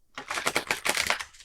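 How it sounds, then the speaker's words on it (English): Tarot cards are shuffled by hand in a quick burst of crisp riffling and slapping, close and fairly loud with no talk over it. "I shuffle a lot because I feel it's like stirring the cauldron"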